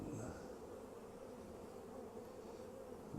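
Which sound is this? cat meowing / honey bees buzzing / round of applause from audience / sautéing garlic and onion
honey bees buzzing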